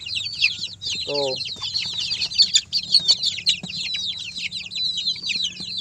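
Three-week-old Bangkok and kampung chicks clucking and cheeping in a dense, continuous chorus, close by, with a brief short vocal sound from a person near the start.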